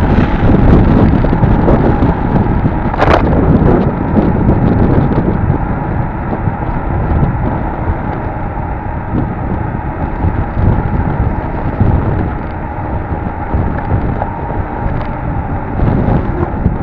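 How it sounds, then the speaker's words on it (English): Strong wind buffets the microphone outdoors on a road trip, a loud, steady roar that stays constant throughout with a brief sharp knock early on. "Lot of wind."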